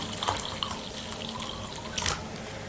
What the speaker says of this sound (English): I'm going to take the broth and pour it in.